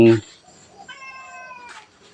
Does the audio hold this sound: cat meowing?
yes